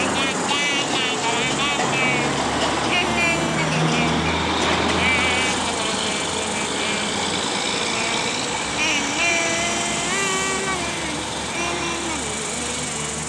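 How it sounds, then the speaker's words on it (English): Trucks rumbling past on a road near a monument outdoors, a continuous loud engine drone with passing swells, while a person sings and talks over the traffic. "There's a truck going by."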